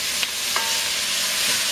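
Gumbo ingredients sizzle and fry in a pot after the sausages, a close, steady hiss with a couple of light stirring knocks, no voices.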